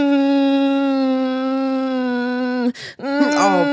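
A voice imitates a little girl's long, droning cry on a boat, holding one steady wailing tone for over two seconds before a sharp breath and some wavering vocal sounds.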